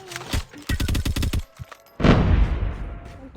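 Rapid bursts of gunfire in a shooting video game: a quick rattling volley of close, loud shots followed by a heavier blast, with no speech.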